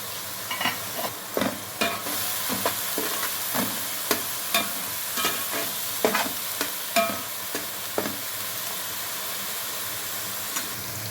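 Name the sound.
cinnamon, cloves and green chillies frying in oil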